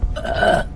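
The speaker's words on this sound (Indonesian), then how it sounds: "Aduh, aku mau sendawa lagi bentar." A single loud, close burp from a streamer lasts under a second, low and throaty, with nothing else around it.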